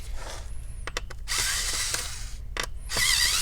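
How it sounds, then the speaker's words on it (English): An electric screwdriver removes Phillips screws from an Alienware M17 laptop, with short whirring bursts separated by brief clicks and pauses, close and alone with no talk. "So here I'm having the electric screwdriver. All the screws here are actually Phillips."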